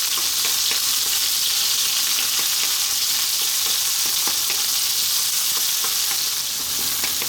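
Onions frying in oil over fairly lively heat for an eggplant curry, a dense continuous sizzle with crackles and occasional stirring, close and alone without voices.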